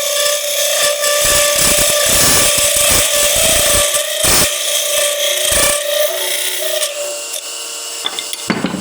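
A curved hand tool carves wood in light, repeated rasping scrapes, close and fairly loud, with short pauses between strokes over a steady background tone.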